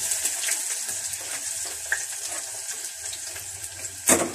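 Diced onions fry in hot oil with a steady crackling hiss, moderately loud and close, with a couple of sharper pops near the end.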